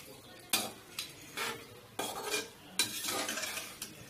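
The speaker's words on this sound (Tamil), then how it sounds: "இப்போ இதை நல்லா ஒரு தடவை மிக்ஸ் பண்ணிடலாம்." Kadaknath chicken gravy stirred in a pot with a metal utensil, giving soft scraping strokes and clinks in an irregular rhythm over a faint sizzle, close and fairly quiet.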